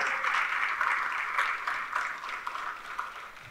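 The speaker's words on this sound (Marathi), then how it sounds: "सर्व संयोजकांचं जोरदार टाळ्या वाजवून आपण अभिनंदन करायला पाहिजे।" Audience applause fills a festival inauguration hall at the Deccan Literature Festival, a sustained wash of clapping with a few sharper claps poking through as it slowly tapers off.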